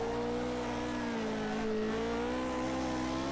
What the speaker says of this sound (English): enjoy the car sounds and listen to the throttle inputs